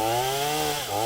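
A chainsaw runs steadily and loudly at close range, its engine note holding level before briefly dipping and climbing back up, during a winter woodland rewilding session.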